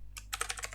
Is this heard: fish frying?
no